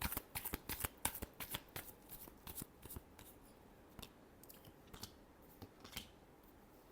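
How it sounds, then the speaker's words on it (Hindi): Tarot cards shuffled by hand, a dense burst of crisp papery flicks at first that thins into scattered single snaps, close and quiet with no talking. "Last shuffle."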